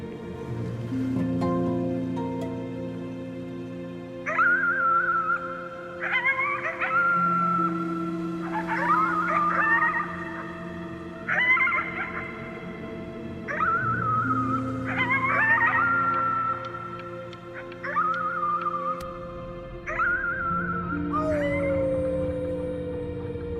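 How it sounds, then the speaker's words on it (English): A figure howls at the moon in the video game Before Your Eyes, giving a series of rising, wavering howls in a steady rhythm over sustained low musical tones. "You howled at the moon, at the top of your lungs."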